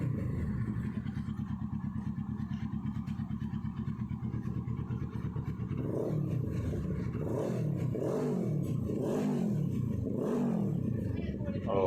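A car engine starts and idles around 1,500 RPM after a fuel pump and fuse repair, then revs up in several rising and falling bursts near the end, with a steady low rumble throughout.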